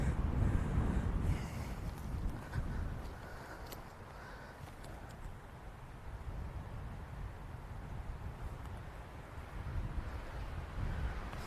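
Steady wind gusting across a golf course, blowing straight into the golfer, buffeting the microphone with a low roar that stays loud and continuous, with no talk over it.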